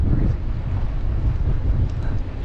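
Steady, loud wind roars and buffets the microphone outdoors on a farm, a continuous rumbling gust with no breaks.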